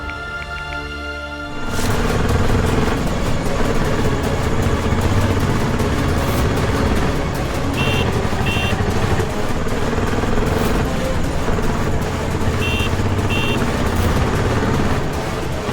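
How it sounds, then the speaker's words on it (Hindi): A motorcycle engine runs steadily and fairly loud after a quiet opening, with a continuous low drone that holds through the rest of the clip. "कुणाल तो बाइक की आवाज सुन ही नहीं रहा है।"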